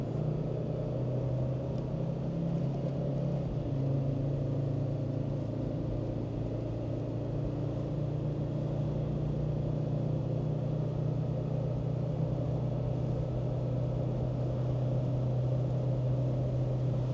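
A Land Rover Discovery Td5 with an automatic gearbox runs its diesel engine up under throttle, a steady, loud, droning rumble with a slight pitch change early on and then a sustained high-revving hum, with no talk.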